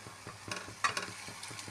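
Pasta gets stirred with spices in a pan, soft sizzling with a few light scraping clinks, fairly quiet and close.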